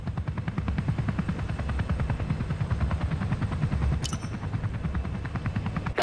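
Comanche helicopter in a video game, its steady rapid rotor chop droning loud and continuous with a low engine hum, a brief sharp high tone cutting in near the end.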